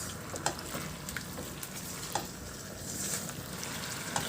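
Sauce with sliced boiled corn is stirred in a frying pan, a soft steady simmering sizzle broken by occasional scraping taps of the utensil, fairly quiet and without speech.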